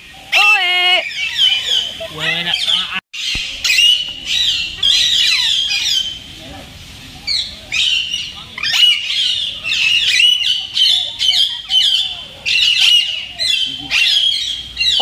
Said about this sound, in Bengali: অজস্র আছে এখানে টিয়া পাখি।